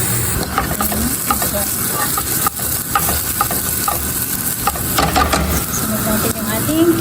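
Garlic and onion fry loudly for chicken masala, a close, constant sizzle broken by frequent scrapes and taps of a spatula in the pan, with someone talking over it.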